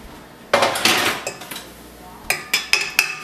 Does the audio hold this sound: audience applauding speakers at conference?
no